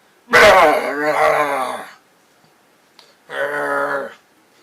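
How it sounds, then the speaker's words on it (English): A loud, throaty growl close by, two drawn-out bursts with a short pause between them, harsh and rumbling with no other sound around it. "All of a sudden I heard a loud growl from in front of me."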